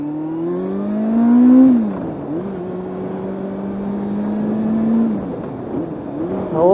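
A motorbike engine revs up in a rising tone, drops as the rider shifts, then pulls steadily and climbs again, close and fairly loud with a clear harmonic drone.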